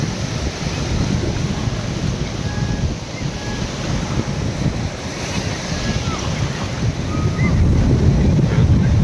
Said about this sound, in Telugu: ఇప్పుడు చూస్తున్నాము సముద్రపు అలలు ఎంత స్పీడ్గా వస్తున్నాయి.